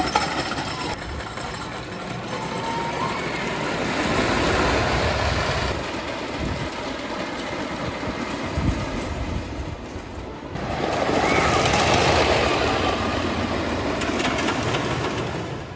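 The Silver Comet roller coaster at Niagara Falls rolls along its track with a broad, steady rumble and rattle that swells louder in two long waves, heard from close by with no clear voices.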